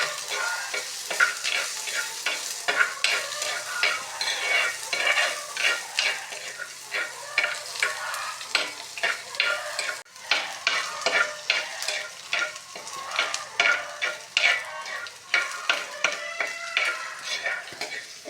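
Chopped shallots and green chillies frying in a pan, with steady close sizzling and repeated stirring scrapes and clinks of a spoon against the pan, continuous throughout with no talking.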